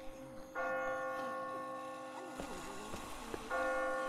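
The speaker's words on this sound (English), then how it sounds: "I just got spooked by those bells" Church bells ring in The Walking Dead video game, two clear tolls with long ringing, humming overtones that hang and decay, fairly loud, with faint background sounds between strikes and no talk.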